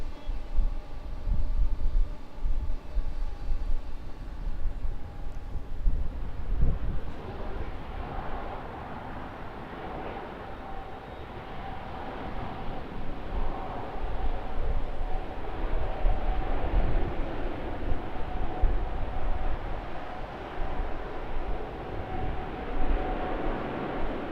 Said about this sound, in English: The Qatar Airways Airbus A380-800 just around the corner now on very short finals from Dubai.